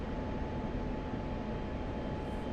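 Jet engine drone from a fighter in DCS World, a steady broadband roar rising slightly as the throttle is pushed, with no talk over it.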